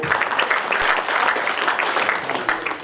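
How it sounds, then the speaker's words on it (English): Steady applause from an audience at a cricket logo and anthem launch in Karaikudi, dense clapping filling the whole stretch at an even, lively level with no voices on top. "I would have liked everybody to give a standing applause"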